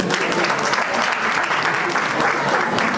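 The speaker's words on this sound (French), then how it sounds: "On applaudit très fort." An audience applauds at a diploma ceremony with dense, sustained clapping from a sizable crowd that stays loud and steady for the whole stretch.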